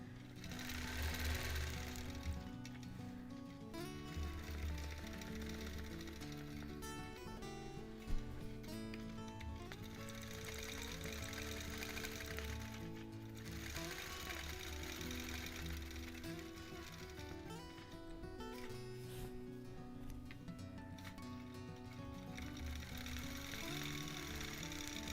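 Quilting machine stitching a Double Wedding Ring quilt topper, a steady rapid mechanical chatter running continuously at close range with brief pauses and no talk.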